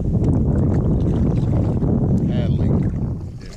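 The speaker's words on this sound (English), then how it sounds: "Paddling." A kayak being paddled on open water outdoors, with heavy low wind rumble buffeting the microphone and faint splashes and dripping water beneath it.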